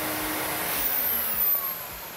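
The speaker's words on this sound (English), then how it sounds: "Any excess carbon is vacuumed from the filter." A vacuum draws excess carbon off a newly made carbon air filter in a factory, a loud steady suction roar with a bright airy hiss that holds throughout.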